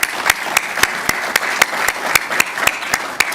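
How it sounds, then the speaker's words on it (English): Sparse applause at a press conference introducing a new Big Ten commissioner, a few distinct sharp hand claps in an uneven rhythm, close and fairly loud, with no speech over them. "want to give them a round of applause."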